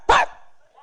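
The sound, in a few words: voice imitating a dog barking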